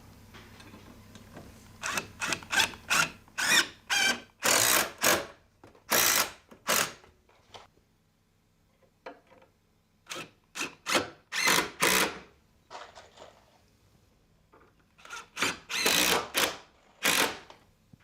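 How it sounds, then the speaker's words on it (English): Hanger screws are driven into foundation joist hangers with a power driver in a house foundation repair, giving repeated short whirring bursts in clusters separated by quiet gaps, close and loud. "I'm actually going to screw it in place using a hanger screw designed for this practice"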